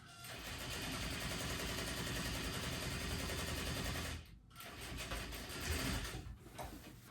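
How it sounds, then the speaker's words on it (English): A sewing machine stitches denim steadily at close range for several seconds, pauses briefly, then resumes in shorter bursts of rapid mechanical stitching. "Let's take them to the sewing machine."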